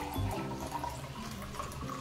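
Water pouring into a pressure cooker while masala pulao is being made, a continuous splashing rush that is loudest at the start and stays steady and close, with no voices.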